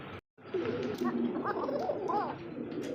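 Soft, repeated cooing from a pair of pigeons at a pigeon sale, over a steady background murmur, with a brief dropout near the start.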